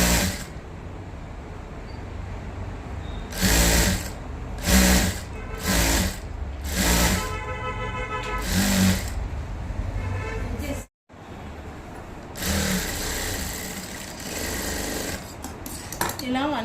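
Sewing machine stitching cloth onto the neckline of a patch nighty, sounding in repeated close bursts of rapid whirring with short pauses between, then one longer run after a brief silence.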